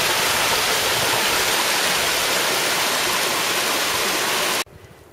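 Water rushing from the outlet of Roaring Branch Pond along the Appalachian Trail, a loud steady broadband roar of flowing stream that cuts off abruptly near the end.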